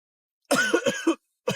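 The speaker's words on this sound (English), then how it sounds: "Sorry, I've got a bit of a cough again." A single sharp cough, followed a moment later by the start of another, close up in a quiet room.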